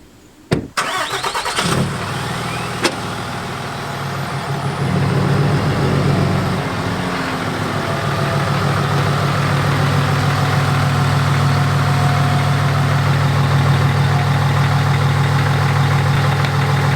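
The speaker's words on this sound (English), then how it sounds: "I'm gonna pull this truck up and we'll set this up." A monster truck's engine cranks and fires, then settles into a loud, steady, deep idle rumble that carries on alone for the rest of the stretch.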